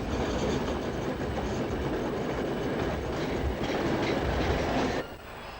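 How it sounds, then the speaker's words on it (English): A 1940 LMS-designed electric commuter train runs on the lines out of Liverpool Exchange toward Southport and Ormskirk, with a loud steady rolling roar and clattering wheels close by, easing off abruptly at about five seconds. "LMS-designed electrics dating from 1940 were familiar and regular performers on the heavily used commuter lines radiating out from Liverpool Exchange"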